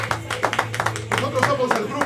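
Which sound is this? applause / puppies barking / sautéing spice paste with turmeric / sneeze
applause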